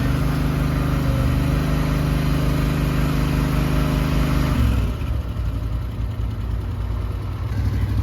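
A tiny machine's engine hauls a 20-foot-long building, its steady idling drone loud and close, dropping in pitch partway through as the load shifts, with no talk over it.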